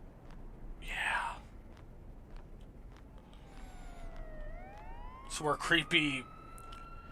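Ambulance and police car sirens from the video game Homeless wail in the distance, their rising and falling tones swelling in the second half. A hushed, whispering voice speaks at the start and again near the end.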